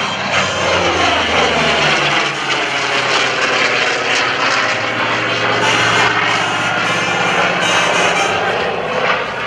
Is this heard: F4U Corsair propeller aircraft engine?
yes